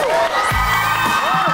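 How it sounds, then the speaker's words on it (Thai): A loud crowd of young people at a school game show cheers and shouts continuously, with whoops and rising voices layered over the din, close and energetic. "ขอเสียงเชียร์ดังๆครับขอเสียงเชียร์ดังๆ"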